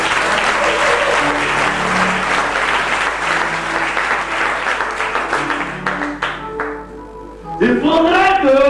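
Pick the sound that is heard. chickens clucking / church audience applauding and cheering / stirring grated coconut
church audience applauding and cheering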